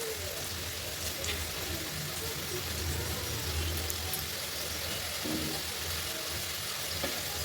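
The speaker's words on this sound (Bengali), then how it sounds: "আলু এরকম ফ্রাই করে নিচ্ছি" Potatoes for French fries frying in hot oil, a continuous crackling sizzle with a low rumble beneath, steady and fairly close.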